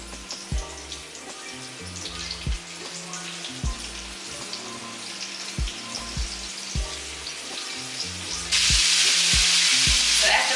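Fish fries in hot oil, a soft sizzle under a rhythmic, thumping music bed that swells abruptly into a loud, dense crackling hiss near the end.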